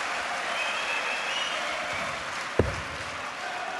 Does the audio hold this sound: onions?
no